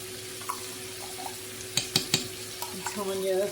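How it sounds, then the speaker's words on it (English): Vegetables and tofu are stirred in a pan for a Malaysian Indian vegetarian dish, with a few quick utensil scrapes and clacks over a quiet background sizzle. "just want to stir these up a little bit"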